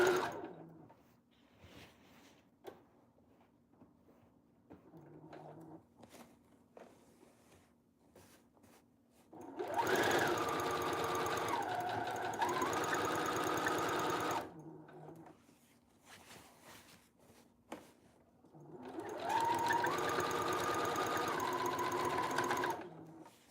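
A sewing machine stitches a wedding gown in two long steady runs of rapid mechanical whirring, each about five seconds, close and fairly quiet, with soft handling noises in the pauses between.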